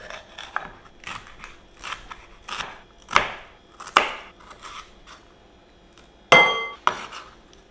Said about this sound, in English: Chop some spinach up.